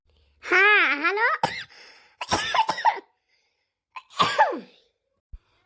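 A few harsh, bursty coughs or throat-clearing sounds, close by, separated by short pauses, with a wheezy, voiced quality to the first one.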